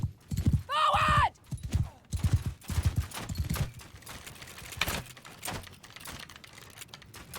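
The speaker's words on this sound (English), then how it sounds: "listen to the lovely clicks of the crossbows" Crossbows click and clatter during a Mount and Blade Bannerlord battle, a rapid run of sharp mechanical taps and thumps amid hoofbeat-like knocks, with a shouted voice at the start and scattered clicks trailing off.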